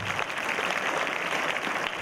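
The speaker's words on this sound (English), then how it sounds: "Please give her a big applause." Audience applause at a school event, a steady dense wash of clapping that holds at an even level throughout without any voices.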